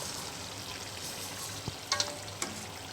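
Murukku frying in hot oil over a medium flame gives off a steady, even sizzle with a few soft clicks and taps partway through, close and alone.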